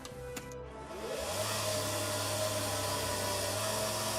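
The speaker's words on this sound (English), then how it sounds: "I need to grind that down with my Dremel" A Dremel rotary tool grinding down the head of an action figure, a close, steady high-pitched whine that spins up in the first second and then holds constant.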